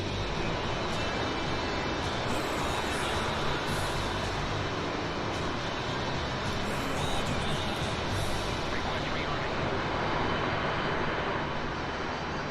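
A helicopter's rotor and turbine in the DCS flight simulator run as a constant dense whir, steady and even in loudness throughout.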